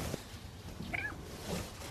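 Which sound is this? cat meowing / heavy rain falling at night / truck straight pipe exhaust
cat meowing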